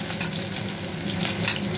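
Ground spice paste with a few pieces of capsicum sizzles and crackles steadily in a pan over medium gas, a continuous dense frying hiss with no voices.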